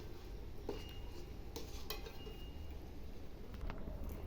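A spoon stirs jackfruit and prawn curry in an oily pan, giving faint, sparse scrapes and a few light metallic clinks over a low, steady background hum.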